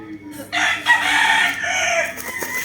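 A two-way cross Boston gamefowl rooster crows close by, one loud, drawn-out cock-a-doodle-doo lasting about two seconds, with soft clucking around it.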